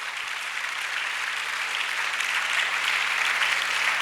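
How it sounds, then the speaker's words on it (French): A church congregation at a bilingual service applauds steadily for four seconds, a dense, even wash of many hands clapping with a faint low hum underneath and no voices. "Put your hands together for Jesus."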